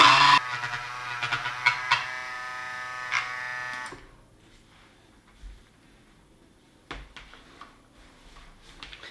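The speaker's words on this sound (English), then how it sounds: "I'm just going to blend this up with my Greek frappe mixer" A Greek frappe hand mixer buzzes in soap-making oils for about four seconds, then cuts off, leaving quiet handling knocks and clicks.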